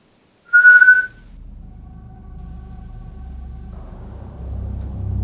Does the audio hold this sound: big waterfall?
no